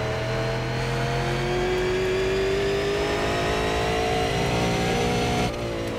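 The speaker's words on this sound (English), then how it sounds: "Still hitting the limiter in the same spot though." Super Late Model race car engine in the iRacing simulator at Thompson, held at high revs and buzzing steadily against the rev limiter, loud and close, then the pitch drops briefly near the end.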